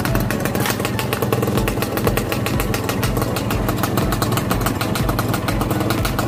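A Suzuki Satria FU motorcycle with a racing setup revs steadily up close, its loud, crisp engine note buzzing continuously with rapid pulsing throughout, no voices over it.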